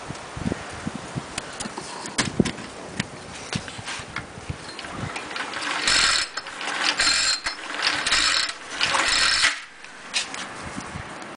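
The starter cord of a four-stroke weed eater engine is tugged repeatedly, giving ratcheting, clattering pulls in uneven bursts with a few longer rasping draws, close up and with no voice.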